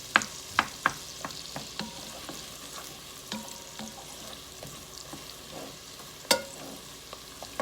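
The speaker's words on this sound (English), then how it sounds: "Just let them saute." Chopped vegetables for broccoli cheese soup sauteing in a pot, a soft steady sizzle broken by sharp clacks and scrapes of a spoon against the pot, with a few louder knocks.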